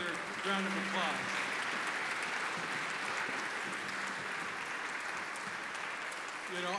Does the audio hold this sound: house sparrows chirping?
no